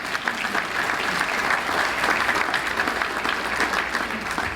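A crowd at a Bay Area annual meeting claps steadily as the Chamber of Commerce president comes on stage, a dense, even wash of applause held throughout at moderate loudness.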